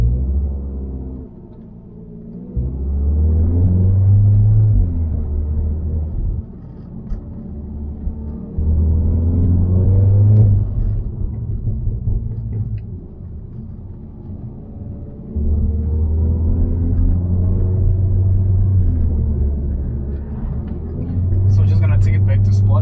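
A VW Golf 7R with an upgraded hybrid turbo, intercooler and intakes, driving with a 7-speed DSG, gives a loud low engine drone that rises and falls through repeated acceleration pulls, with gear changes between surges.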